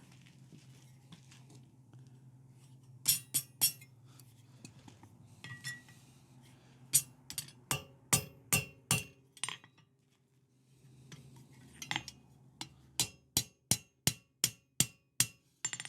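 A hammer strikes a hot rivet over the boss of bolt jaw tongs in irregular bursts, first a few scattered blows, then quick rhythmic series of sharp metallic rings, close and clear against a low background hum.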